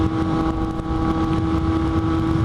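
A Kawasaki Z800 motorcycle engine pulls hard under acceleration while riding, a steady close-up drone with a strong, even tone and no talking.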